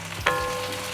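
Yard-long beans sautéing in a pan for a jackfruit-seed curry, a soft steady sizzle with a brief stirring scrape early on, close and quiet throughout.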